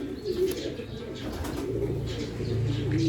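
White flight pigeons coo softly and close by, a low rolling murmur with faint rustling and a few light chirps in the background.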